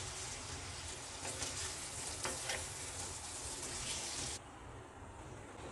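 Potatoes coated in spice paste fry in a pan for dhaba-style aloo do pyaza, giving a steady close sizzle with brief stirring scrapes, then a slightly quieter sizzle near the end; no talking.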